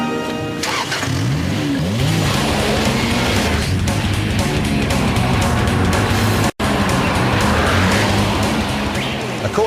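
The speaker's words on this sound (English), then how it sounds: "the car is delivered back to Lotus, and test driver Alistair gets to put it through its paces" A Lotus sports car driven hard by a test driver roars through loud revving and accelerating engine passes, the pitch sweeping up and down with gear changes, close and continuous, with a brief cut near the middle.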